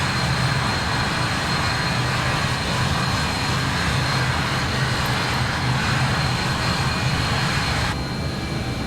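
Simulated AVRO RJ jet engines hold takeoff thrust in a flight simulator, a loud, steady broadband roar with a constant low rumble and airy hiss that continues unbroken throughout.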